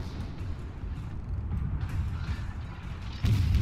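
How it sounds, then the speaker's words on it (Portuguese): Ship cannon fire in the naval battle game World of Warships, a dense low rumbling roar with a heavier boom arriving near the end, loud and continuous with no talk over it. "Acho muito bonito o canhão disparando, olha isso."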